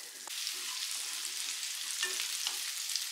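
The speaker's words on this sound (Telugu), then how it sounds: "గార్లిక్ రెబ్బలు, అలాగే 2 పచ్చిమిర్చి ముక్కలు. ఇవి ముందు ఫ్రై చేసుకుందాము ఈ ఆయిల్లోనే." Garlic cloves and green chilli pieces frying in oil, a close, steady hiss of sizzling with a few soft stirring clicks and scrapes.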